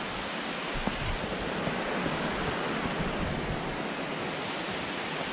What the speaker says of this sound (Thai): จะถึงน้ำตกแล้วค่ะได้ยินเสียงแล้วเนาะ